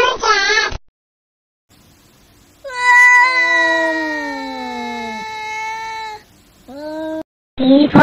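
A cat gives one long, loud, drawn-out meow with a falling pitch, then a shorter second meow, set between bursts of other voices.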